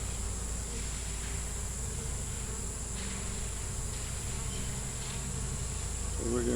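Honeybees in an open hive with a forager dancing and bringing in pollen, giving a steady, dense buzzing hum throughout at an even level, with no talking.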